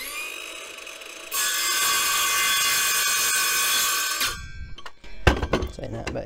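A saw cuts steel for a custom sump guard on a Royal Enfield Interceptor 650, making a loud, steady, rasping cut for about three seconds that stops abruptly, followed by a few sharp metallic knocks.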